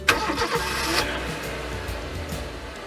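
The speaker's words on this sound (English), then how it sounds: "The Linfox truck driver identifies himself in order to start the engine." A Linfox truck's engine starts up in the cab, cranking into a steady rumbling idle with a broadband roar that settles over a few seconds.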